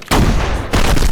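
Close-range gunfire from a crime film shootout between police and criminals in an abandoned building: two loud, dense bursts of shots, with a brief gap between them and no talk.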